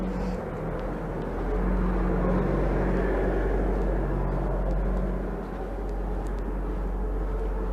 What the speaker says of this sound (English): Sorry for the noisy buses.